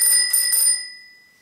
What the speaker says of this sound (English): Over here is a tricycle bell with a nice lion on it.